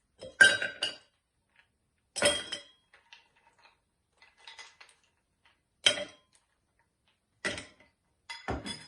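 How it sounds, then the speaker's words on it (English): Ice cubes are dropped one at a time into a cocktail shaker, giving about six separate hard clinks and rattles spaced a second or two apart, close and distinct against near silence. "To make the drink, you need to add ice to your shaker."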